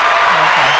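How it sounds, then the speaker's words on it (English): A brief burst of hand clapping applause from a gathered audience, dense and loud for under a second. "Hand claps for that."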